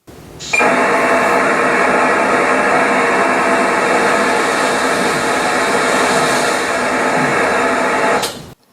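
A dense, harsh burst of digital static hisses steadily for about eight seconds, loud and unbroken, then cuts off abruptly: a digital ham radio signal, System Fusion, received on a traditional analog FM radio.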